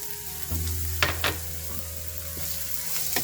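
Finely chopped onions sautéing in hot oil for a masala bhindi, a steady bright sizzle with a couple of sharp stirring scrapes, close and clear, no speech.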